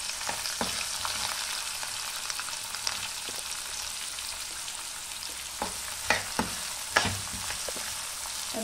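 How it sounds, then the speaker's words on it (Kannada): Onions sizzle and fry in a pan with cumin for a green gram curry, a steady broadband hiss with occasional sharp crackles and spoon clinks near the end, close and moderately loud, with no talking. "ಈಗ ಈರುಳ್ಳಿ ಹಾಕ್ತೇನೆ."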